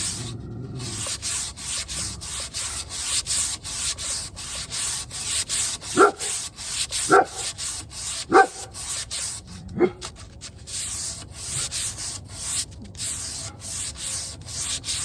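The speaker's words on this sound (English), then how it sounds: "Whenever you're sanding, you always want to make sure that you're sanding with the grain as much as possible." Hand sanding of a wooden bed post with 120-150 grit sandpaper, a steady close scratchy rubbing that continues throughout, broken by a few short sharper strokes midway.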